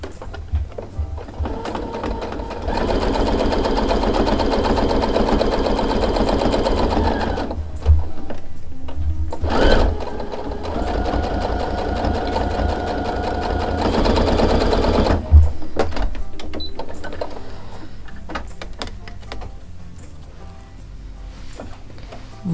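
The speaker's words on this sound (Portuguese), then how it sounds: "Vou costurar minha biqueirinha agora." A sewing machine stitches the toe cap of a baby shoe in a steady, loud mechanical whir that runs for several seconds, breaks off briefly, runs again, and then stops.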